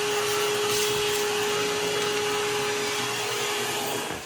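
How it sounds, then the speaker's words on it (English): A vacuum cleaner running inside a boiler during a plumber's service call, a loud, steady, close roar with a constant whine, dropping slightly at the end. "So we got that vacuumed out."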